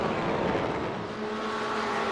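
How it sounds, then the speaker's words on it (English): A Corvette race car in a sim racing game at Watkins Glen holds a steady, high-revving engine drone with a constant buzzing tone, loud and continuous throughout. "that Corvette is running really high revs here today"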